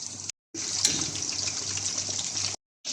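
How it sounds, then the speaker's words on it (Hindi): Chicken 65 pieces frying in oil on a medium flame give a steady, close, bubbling sizzle that drops out briefly twice, with no speech. "इसी तरह साइड चेंज करके 3 से 4 मिनट फिर से फ्राई कर लेंगे"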